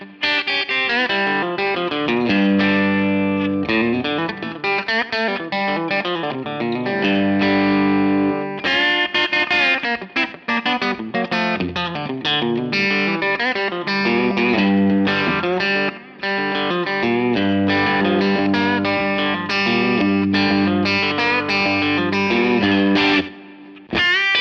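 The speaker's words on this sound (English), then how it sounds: "I really like that reverb and delay combination." An electric guitar played through a Line 6 Helix Stadium XL rings out with a lush reverb and delay combination, a continuous melodic passage of sustained chords and notes with trailing repeats for over twenty seconds.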